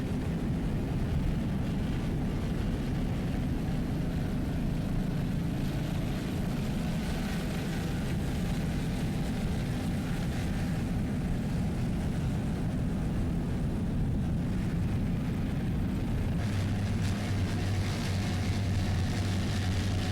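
A 45-foot Skater racing powerboat roars past at an offshore race in Key West, its engines a steady, dense, loud drone that holds throughout with no voices heard.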